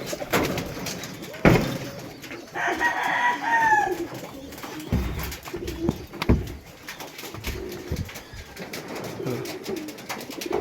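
Roosters outdoors, with one drawn-out crow near the start standing out over scattered knocks, rustling and quieter background calls. No one speaks.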